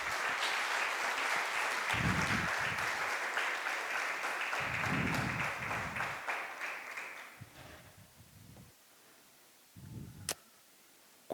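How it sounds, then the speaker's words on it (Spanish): A church congregation claps for several seconds during a Spanish-language sermon, the applause fading out while scattered low thumps and a sharp click sound through the quieter tail. "Denle un aplauso al Señor"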